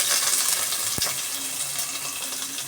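Curry leaves dropped into hot oil after garlic and ginger for a chicken thoran: a dense, continuous sizzle and crackle up close, with a brief knock partway through and no speech.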